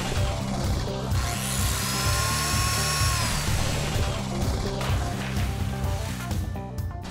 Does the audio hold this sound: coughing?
no